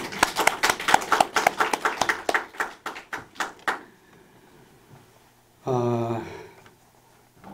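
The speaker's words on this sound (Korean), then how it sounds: "큰 박수를 한번 드리겠습니다" A church congregation at a Sunday worship service claps, about a dozen sharp, fairly rhythmic hand claps over roughly four seconds. A pause follows, then a brief voice.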